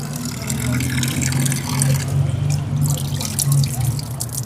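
Cold water from a public street fountain in Sarajevo runs and splashes steadily, close to the microphone, while people chat nearby over the continuous flow.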